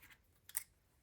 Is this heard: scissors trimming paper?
yes